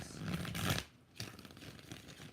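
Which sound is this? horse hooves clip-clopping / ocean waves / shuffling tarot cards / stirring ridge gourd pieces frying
shuffling tarot cards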